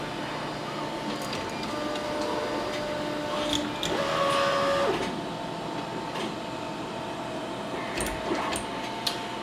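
A Robo 3D R1 3D printer fitted with upgraded leadscrews runs an auto-home routine, its stepper motors whining and humming in shifting tones with a few clicks and a louder sweep near the middle.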